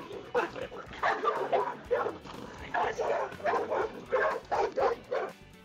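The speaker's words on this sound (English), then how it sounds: "A setting of 1 gave us an isolated sound, for example, of a barking dog" An AI-generated dog barks in a series of short, fairly clean yaps and woofs, arriving in uneven bursts with small gaps between them, set against a quiet background.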